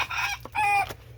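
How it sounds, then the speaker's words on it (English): A rooster crows among clucking hens in a spring garden, two loud drawn-out harmonic calls close by with a short pause between them and no talking. "There's the rooster."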